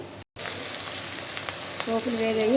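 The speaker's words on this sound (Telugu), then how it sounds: "పోపులు వేగాయి." A steady, close hiss of mustard seeds, cumin, urad dal and chana dal frying in hot oil, continuous and fairly loud, with a brief cut near the start and a faint tonal whine later.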